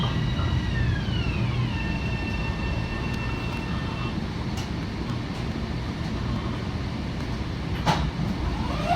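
Steady rumble of an M7A commuter train (car 4173) rolling between Melrose and Tremont, heard from inside the first car, with a drawn-out falling tone early on and a brief sharp squeal near the end.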